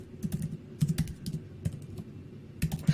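Keys clatter on a computer keyboard in quick irregular bursts of typing with short pauses, close and clear, with no talking.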